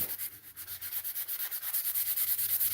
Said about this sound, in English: not to get off topic of all this fine sawdust that I'm making